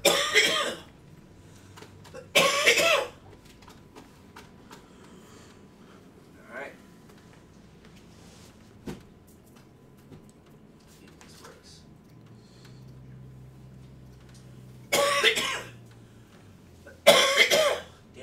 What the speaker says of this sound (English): always cough like that before the virus